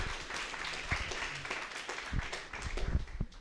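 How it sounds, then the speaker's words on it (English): Audience applause at a space entrepreneurship event in Berlin, a faint, steady patter of many hands clapping in a room, lasting throughout. "Round of applause for you."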